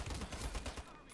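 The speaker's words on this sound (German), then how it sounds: "Oh, der Schuss war geil" SCAR-H rifle fire in the shooter game Ironsight, a rapid string of loud close shots with a rhythmic pulse through most of the moment, then cutting off near the end.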